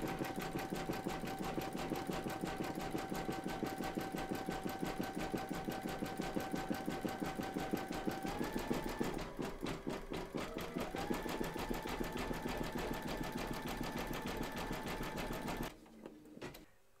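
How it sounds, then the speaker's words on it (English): An embroidery machine zigzag-stitches around the edge of an in-the-hoop reindeer towel topper, a fast, even mechanical chatter of needle strokes running continuously and close, pausing briefly near the end. "We're now going to stitch round number 12, and that's going to zigzag all the way around"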